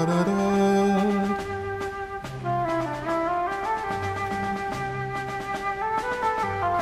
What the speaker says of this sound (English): the Bolero by Maurice Ravel